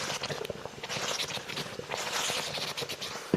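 Rice with blended tomato, garlic and onion being stirred in a clay pot, a continuous rough scraping and scratching of the utensil against the pot, steady and close with irregular clicks.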